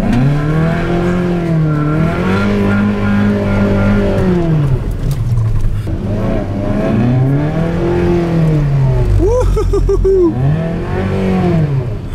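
A loud car engine revs and surges in repeated rising and falling sweeps while the car makes a small controlled drift leaving a Cars and Coffee meet, heard close and dominating, with a brief higher squeal near the end.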